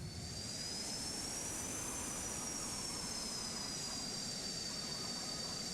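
A Saab Gripen (Griffin G39) jet engine idles steadily as the fighter taxis in Microsoft Flight Simulator, a loud continuous roar with a high whine that rises slightly and then settles, with no voices.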